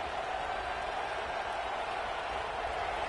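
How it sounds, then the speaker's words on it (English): A college football stadium crowd at the Auburn versus Alabama Iron Bowl roars in a steady, dense wash of cheering and applause, loud and continuous without a break. "This Auburn crowd trying to conjure up a little magic here on 3rd down."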